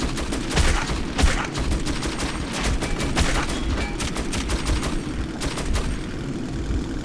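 Bursts of automatic gunfire from the Metro 2033 shooter crack in quick clusters, sometimes tight volleys and sometimes short pauses between them, loud and close over a rumbling background.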